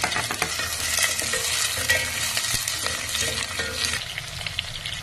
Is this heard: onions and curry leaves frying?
yes